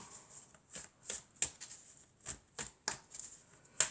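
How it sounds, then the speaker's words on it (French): Tarot cards are drawn and handled on a table, giving a run of soft slaps and brushing swipes at an uneven rhythm, close by and without speech. "je vais tirer quelques cartes et on va les retourner ensuite"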